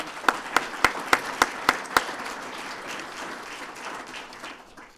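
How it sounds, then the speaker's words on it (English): At a police swearing-in ceremony, a handful of sharp, evenly spaced claps ring out, then fade into a softer patter of scattered applause that tapers off. "Let's give them a round of applause, too."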